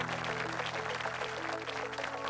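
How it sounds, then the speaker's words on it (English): An indoor audience at an architecture panel event applauds the panel of architects, a steady, moderately quiet patter of clapping that lasts throughout. "A round of applause, ladies and gentlemen"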